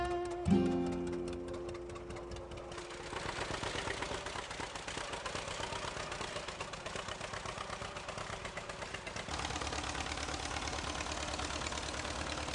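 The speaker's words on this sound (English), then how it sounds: "When you hear it start, we'll all cheer." An old John Deere tractor engine cranks and catches, then settles into a steady, rapid chugging idle that runs to the end. The idle grows a little louder partway through, and no voices are heard over it.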